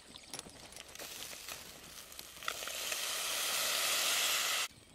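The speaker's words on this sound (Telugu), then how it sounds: "కోనసీమ కారం, చేపలు బాగా ఏగినాయి" Fish fry in a pan with Konaseema chilli powder, a faint sizzle that swells into a loud, steady hiss over the last couple of seconds before stopping abruptly.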